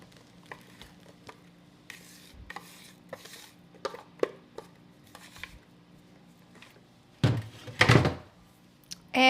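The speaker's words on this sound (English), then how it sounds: "You're simply going to take your pie pan and dump these in here." Crumbs are dumped from a container into a pie pan, giving a loud rushing pour near the end. Before it come scattered light knocks and taps, with no talking.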